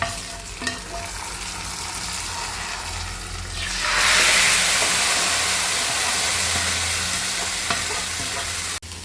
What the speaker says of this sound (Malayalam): മുളക് കൂടി ഇട്ട് കൊടുത്തു നമുക്ക് കറിയിലേക്ക് താളിച്ച് കൊടുക്കാം